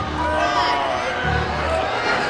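A feisty, noisy audience at a Michael Moore live show, with a steady murmur of overlapping voices and crowd babble that fills the whole moment without a break.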